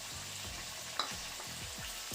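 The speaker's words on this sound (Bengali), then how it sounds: "এখন আমি এটা রাখা ফুলকপিগুলো দিয়ে দিচ্ছি" Potatoes and cauliflower frying together in a pan, a soft steady sizzle broken by repeated scraping stirs of a spatula, with one sharp clink near the middle.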